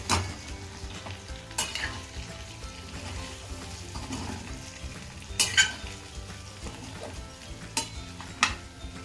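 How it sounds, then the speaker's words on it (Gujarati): Potato bites with coriander are stirred in a pan with the flame just turned off: a soft, continuous scraping hiss broken by occasional sharp spatula clicks against the metal. There is no talk. "બધું સારી રીતે મિક્સ કરી લેશું"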